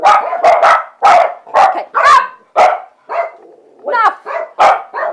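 Dogs bark loudly and close in a rapid run of sharp, repeated barks with short gaps, a few higher yips mixed in, while a person briefly speaks.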